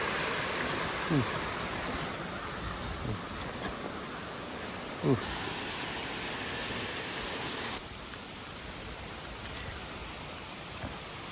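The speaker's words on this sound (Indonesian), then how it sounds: "jadi air terjun di sana" A constant, even rush of falling water fills the scene, loud and unbroken, with a few faint brief sounds on top.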